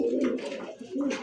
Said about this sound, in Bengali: ড্যানিশ কবুতর